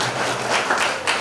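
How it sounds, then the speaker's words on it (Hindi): A crowd at a religious stage gathering claps loudly to welcome a guest, a brief dense burst of applause close by. "जोरदार तालियों से उनका स्वागत करें"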